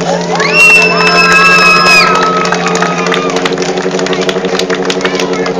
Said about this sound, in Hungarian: Még egy nagy biztató tapsot Hambinak!